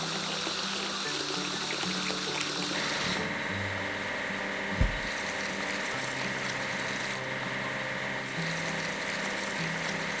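Steady rushing water spray washing a rail grinder train in a children's railway cartoon, continuous and fairly loud with a low mechanical drone beneath and one brief thump midway.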